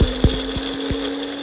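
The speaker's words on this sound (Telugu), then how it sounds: "ఆ మూడు మిక్సీ చేసేస్తున్నా" A kitchen mixer grinder whirs steadily as it grinds fenugreek seeds and cumin for a fish curry masala, with a few dull knocks near the start of the short run.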